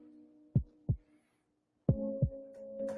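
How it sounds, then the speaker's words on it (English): Heartbeat-like throbbing: paired low thuds, two near the start and two more after a gap, over a faint steady hum. "Sounds like a heartbeat."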